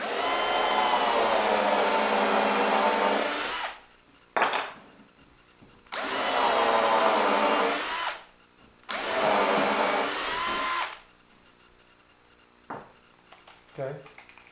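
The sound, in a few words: drilling through wood with a 3/16 bit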